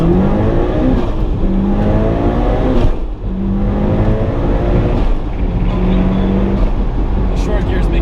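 A 400 hp Mitsubishi Evo 5 pulls hard through its short gears from first, the engine rising in pitch loudly from inside the car, with a brief dip at a shift, while people talk over it.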